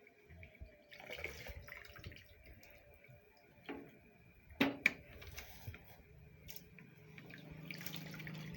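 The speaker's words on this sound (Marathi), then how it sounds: "आता आपण अजून पाणी टाकणार आहोत." Water is poured into a pot to wash rice, soft intermittent splashes and trickles with a few clinks, quiet and close, growing into a steadier flow near the end.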